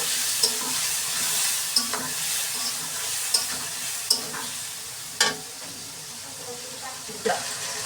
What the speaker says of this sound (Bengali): এখন এর মধ্যে সামান্য একটু জল দিয়ে দিব। মশলাটা নেড়েছে আর একটু কষাবো।